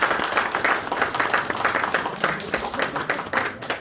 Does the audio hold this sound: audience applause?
yes